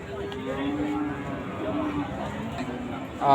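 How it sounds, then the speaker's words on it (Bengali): Amid constant crowd chatter at the Chandaikona cattle market, a large dairy cow gives a low, sustained moo, with nearby voices talking throughout and a louder thump at the end. "এখানে একটা গাভী গরু আপনারা দেখতে পারতেছেন, বিশাল আকারের একটা গাভী গরু"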